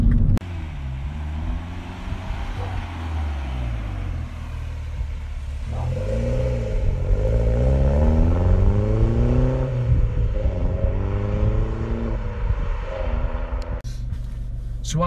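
A 2012 Mini Cooper S R56 hot hatch engine revs up and down in repeated rising sweeps, loud and close, with a deep rumble and brief crackling exhaust pops between throttle blips.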